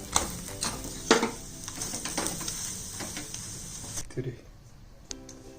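Small parathas cooking in ghee on a hot tawa give a soft sizzle with occasional scraping and stirring clatters, close by and moderately quiet, fading near the end.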